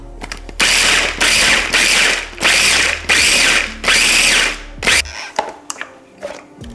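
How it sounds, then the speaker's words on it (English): A small food processor pulsing about a cup of pecans: loud whirring bursts in repeated pulses, each cut short, followed by softer rattling of the chopped nuts. "I just like to use my little food processor for this, and you need about a cup of pecans. I'm gonna pulse these until they are nice and small."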